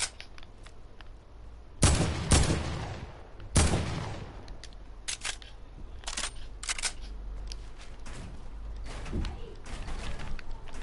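Gunfire in a shooting video game: two loud, sharp blasts stand out near the start, followed by scattered quieter shots.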